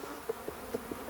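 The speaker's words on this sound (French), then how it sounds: "Oula, encore plus d'abeilles dans l'air." Honey bees buzz around an open hive during hive work, a soft continuous hum with a few brief louder passes close to the microphone, no talk.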